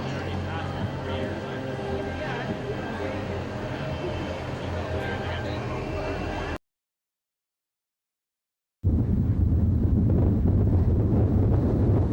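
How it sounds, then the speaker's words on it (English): Strong gale-force wind roars against the microphone in a steady, buffeting rumble, cut off by a brief silence before the gusting resumes. "A tractor trailer flips over onto its side after being tossed around by gale force winds."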